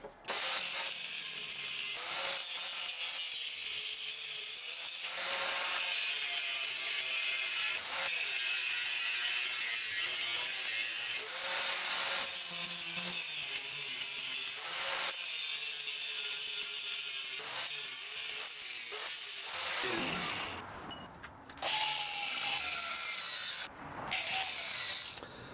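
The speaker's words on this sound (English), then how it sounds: "I'm actually going to have to drill out one side of this a little so that this countersink fits through" Drill boring out one side of a hole so a countersink bit fits through, part of a DIY grinder slider build; loud continuous grinding and whirring with rhythmic catches, easing into scattered clicks and taps near the end.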